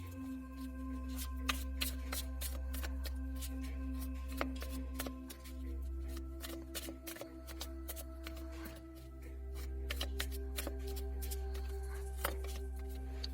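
Tarot cards shuffled and drawn during a reading, a string of soft, crisp flicks and slides of card stock with irregular rhythm over a steady low hum, close and fairly quiet.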